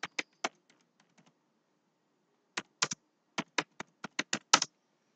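Clicky keystrokes on a computer keyboard as a name is typed: a quick burst of taps, a short pause, then another rapid run of keys, close and fairly quiet.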